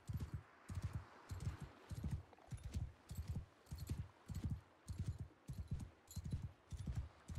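Horses gallop steadily in Mount & Blade II: Bannerlord, a continuous run of loud, rhythmic hoofbeat clusters repeating about every half second, with no talk over them.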